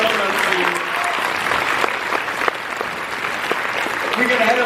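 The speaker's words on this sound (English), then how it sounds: "Give her a round of applause." Audience applause at a comic con panel, a steady wash of many hands clapping close by, with some cheering and a voice briefly heard beneath.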